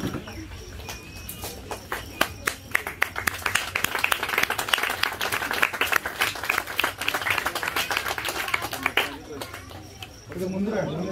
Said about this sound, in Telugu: మీరందరూ హర్షత్వాలతో వారికి చప్పట్లతో కృతజ్ఞతలు తెలియజేస్తుందిగా కోరుతున్నాం.